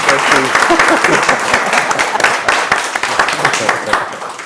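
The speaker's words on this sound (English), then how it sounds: "please give everybody a round of applause?" A conference audience at an Atlanta roadshow event breaks into sustained applause, dense overlapping clapping filling the room at steady loudness, with a few voices faintly audible underneath.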